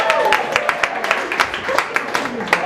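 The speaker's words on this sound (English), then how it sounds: "Can you just give yourself a round of applause for that?" An audience at the Brunel's Got Talent 2013 student talent show claps in a sustained round of applause, with dense, irregular hand claps filling the room at close range.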